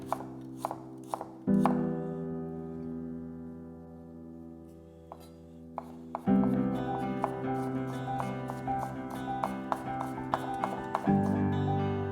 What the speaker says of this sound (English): Two small pieces of ginger, finely chopped.